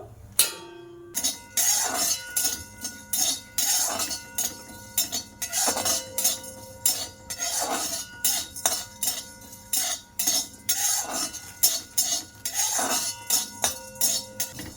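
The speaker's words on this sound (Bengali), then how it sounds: "এই মশলাগুলো আমি ভাজা করে নেব।" A spoon or spatula repeatedly clinks and scrapes against a metal pan while fennel, cumin and black peppercorns dry roast, with sharp irregular taps and rattles close up and no speech.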